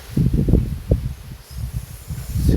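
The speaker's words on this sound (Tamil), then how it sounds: "காற்றடிக்குது இப்போலாமா" Low, gusty wind rumbles and buffets steadily, with uneven bursts of blustery noise throughout and no voices.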